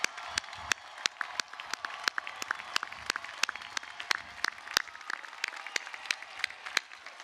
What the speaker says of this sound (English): please give them a nice round of applause for all they've done for you